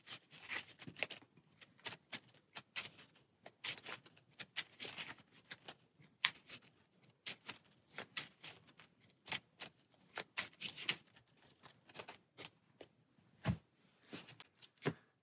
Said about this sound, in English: an extra encounter card and shuffle our deck